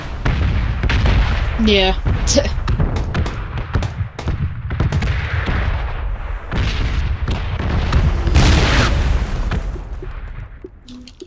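Gunfire in PUBG on Xbox One X, repeated loud shots and booming bursts packed closely through most of the stretch, with a voice speaking briefly over them.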